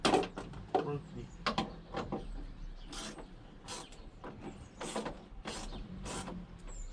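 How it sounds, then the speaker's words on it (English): Close metallic clicks and ratcheting turns from a tool undoing a bolt on a Volvo V70/S60 bonnet hinge, in a series of short bursts with faint background noise. "You do, you've got to undo your bolt."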